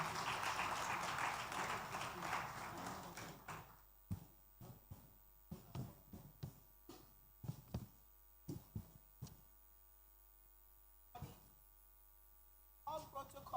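An audience claps for a senator stepping forward at a disability day event: a broad burst of applause that thins into scattered individual claps and then sparse, isolated hand slaps in a quiet hall.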